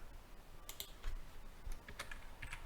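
Keys clatter on a computer keyboard in a short burst of quick, irregular taps, close and moderately loud against a quiet room, with no speech.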